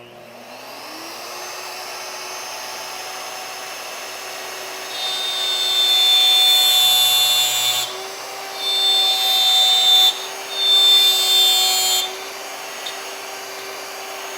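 A PantoRouter router bit cuts mortises in wood as a steady high motor whine, rising in loudness during several cutting passes, with no talk.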